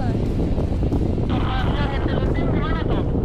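Wind rushes over a steep ravine while paragliding above the Karo highlands, a constant roaring buffet against the microphone with a faint voice briefly under it.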